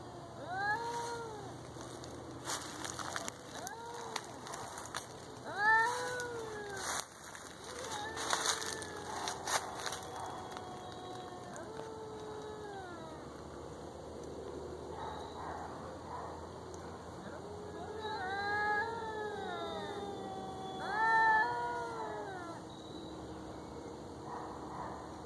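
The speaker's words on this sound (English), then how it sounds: "Wild cat fight." Cats fight outdoors, trading loud, drawn-out yowls and caterwauls in bursts, with scuffling in between and quieter stretches before the howling flares again near the end.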